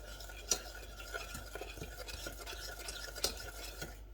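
A spoon scrapes and swirls steadily through sugar and cocoa in a bowl for a chocolate pie, quiet gritty rubbing with a couple of sharper taps against the bowl.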